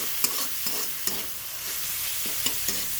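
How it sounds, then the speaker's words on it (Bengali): Cabbage fries in oil in a pan with a steady hiss and sizzle, broken by several sharp scrapes and clacks as it is stirred, close and without talk. "এতে বাঁধাকপিটা তেল দিয়ে ভেজে নিচ্ছি ভালো করে"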